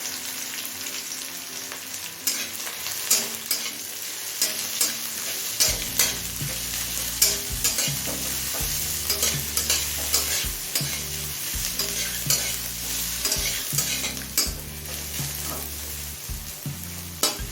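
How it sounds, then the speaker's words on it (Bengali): A large chopped onion fries in oil with cumin, bay leaf and dried red chilli while being stirred for chicken khichuri. A loud, steady sizzle runs with repeated spatula scrapes, and a low droning hum joins partway through. "পেঁয়াজ হালকা লাল করে ভেজে নিয়েছি"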